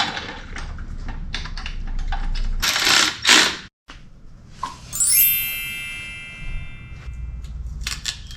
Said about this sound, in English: Now installing the axle slider.